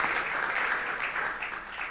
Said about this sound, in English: A warm applause for Philip coming from IPCA.